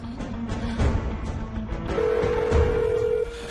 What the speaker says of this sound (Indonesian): Sekarang ditelepon juga nggak diangkat.